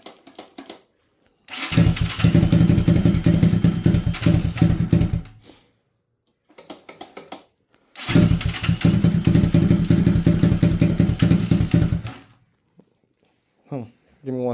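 A Lifan KP Mini 300 motorcycle with a custom exhaust, cold and being coaxed to run: two loud bursts of rough, pulsing engine sound a few seconds each, separated by silence and brief sputters, with someone talking.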